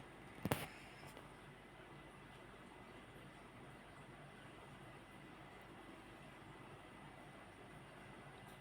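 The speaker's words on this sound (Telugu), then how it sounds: "పైనుంచి ట్రైన్లు వెళ్తాయి" A steady low rumble of a train rolling by overhead fills the whole stretch, with a sharp bang near the start and no voices.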